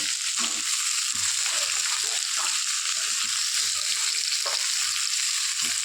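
Moringa drumstick stems fry in a pan, giving a steady, close sizzle with faint stirring scrapes throughout and no talking.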